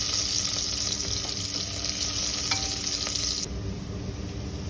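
Onions frying in a pan with whole cumin, bay leaf, dried chili, cardamom, cinnamon and cloves for khichuri, a steady close broadband sizzle with a few faint scrapes of stirring, dropping slightly in level near the end.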